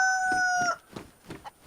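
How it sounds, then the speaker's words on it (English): A cockerel in the DayZ video game crows once, a short, bright call that cuts off abruptly, followed by faint scattered game sounds. "There we go, cockerel."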